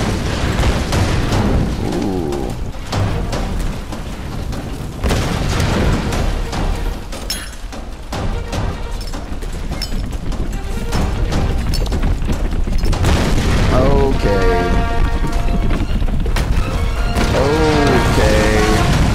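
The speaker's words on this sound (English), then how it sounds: "Explosions all over my face." Explosions in the Tomb Raider action game, a dense run of loud booms, crashes and gunfire-like bursts layered over a continuous game soundtrack, with a brief lull mid-way before the blasts build again.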